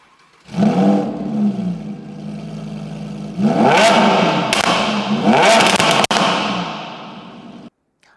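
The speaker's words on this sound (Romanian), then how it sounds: "are 6 țevi de evacuare, sunt absolut gigantice și se aud demențial" An Audi R8 facelift engine barks to life and idles with a deep rumble through six large exhaust pipes, then revs hard twice in loud rising bursts before cutting off.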